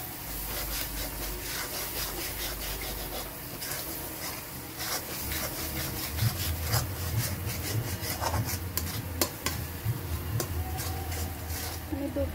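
Spice paste for a prawn and jackfruit curry stirred and scraped in a pan, with continuous rubbing and scraping, occasional sharp clicks of the spoon, and a low sizzle building in the second half, close up.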